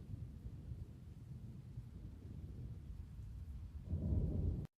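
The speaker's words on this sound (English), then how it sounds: "That is a loud storm." A thunderstorm in the Roblox game Twisted gives a low, continuous rumble of thunder with rain and wind, swelling louder near the end before cutting off, with no voices.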